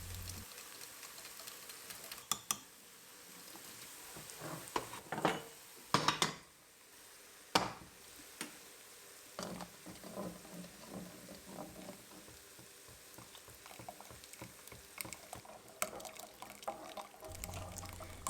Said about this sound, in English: As you can see, I'm also stirring the soup while adding back the yogurt mixture.